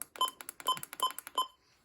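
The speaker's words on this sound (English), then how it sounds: "Also has unusual button beeps" A quick series of electronic beeps, about four distinct tones in a rapid rhythm, clear and close with nothing else around them.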